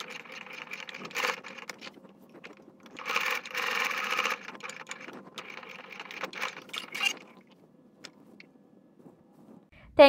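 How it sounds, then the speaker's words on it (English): A sewing machine stitches a face mask with white thread, running in several short close bursts of rapid mechanical whirring separated by pauses, ending with a sharp knock. "When I will use my white thread, then I will sew on that area as well."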